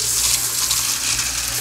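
Hot water runs steadily from a kitchen tap for making macaroni, a continuous close splashing gush with no voices.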